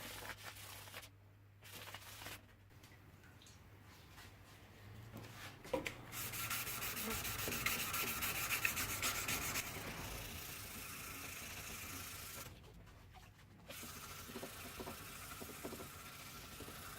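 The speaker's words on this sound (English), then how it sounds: "Then I'll hand sand the knife." Hand sanding on a Damascus chef knife with fine grit paper, a soft continuous rubbing with brief pauses and louder stretches, close and quiet over a low background hum.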